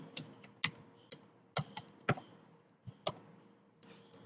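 Keystrokes on a computer keyboard as an email ID is typed, coming in irregular bursts of sharp clicks with short pauses between them, close and fairly quiet, with no voices.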